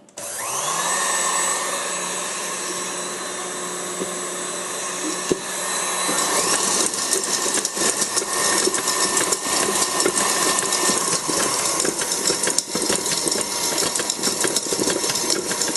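An electric mixer whips tiramisu batter at medium speed, a steady loud motor whine that turns rougher and grittier halfway through as the beaters churn the mixture, with no talk.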